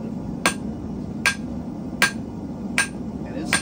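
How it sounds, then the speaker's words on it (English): Hammer striking a hot metal hook or nail in evenly spaced ringing blows, the hammer bouncing back, five strikes close by, over a steady background hum. "as I'm hitting, I'm letting the hammer bounce itself back"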